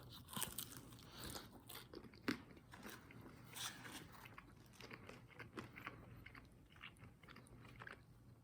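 Someone bites and chews a crunchy Pizza Hut Meat Lover's Melt, packed with meat and cheese, close to the mic. Soft, irregular crunches and chewing sounds repeat quietly over about eight seconds, with no talking.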